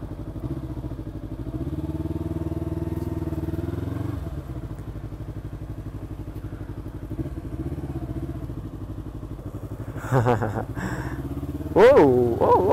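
A motorcycle engine rumbles steadily and close on a motovlog ride in Sri Aman, then revs rise in short bursts near the end, with someone talking over the drone.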